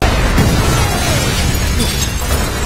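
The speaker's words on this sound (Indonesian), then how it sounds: "bom yang dipasang perampok amatir baru saja meledak" A loud, booming blast fills the clip, a dense rumbling roar with debris-like crackle that stays heavy for a couple of seconds.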